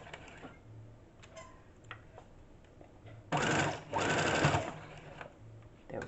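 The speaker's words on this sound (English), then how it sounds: "So I'm just going to sew till I get to the seam, and that'll be my ending." An electric sewing machine stitching a trouser hem, running in two quick bursts with a brief pause between them, then stopping; loud and close, with quieter handling sounds and low hum before and after.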